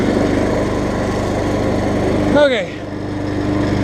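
Small 11 hp Honda engine running steadily on a 1959 Case 700 tractor, a continuous close droning hum with a brief rise and dip midway, and a short spoken word over it.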